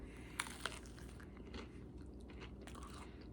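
Crunchy frybread topped with onion chive cream cheese being bitten and chewed up close, with two sharp crunches early on and then softer, repeated crackly chewing over a low background rumble.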